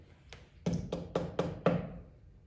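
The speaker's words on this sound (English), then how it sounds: "there was a knock at the door" Someone knocks on a door: one light tap, then five firm, evenly spaced raps in quick succession, close and clear in a quiet room.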